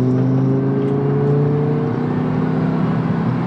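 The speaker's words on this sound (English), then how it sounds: "as the revs build to about 3000 RPM, you get this drone start from the back" An Audi R8 V10 Performance engine drones steadily from the rear as the revs build toward about 3000 RPM, a close, continuous low hum with slowly rising pitch under road noise.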